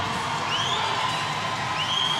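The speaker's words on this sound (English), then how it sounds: "The crowd willing Hosu onto the win." Spectators cheer at a swimming meet in Budapest, a steady roaring wall of crowd noise with occasional whistles cutting through, loud and continuous throughout.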